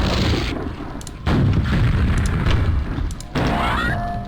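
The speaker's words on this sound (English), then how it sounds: "Fires a fireball, and bursts apart into a red burst of stuff." A lava gun in a video game launching fireballs, with two loud, booming blasts that burst apart at close range over a rumbling background.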